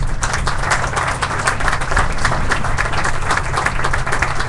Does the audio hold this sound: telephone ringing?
no